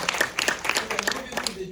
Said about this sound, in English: a big applause to Ellen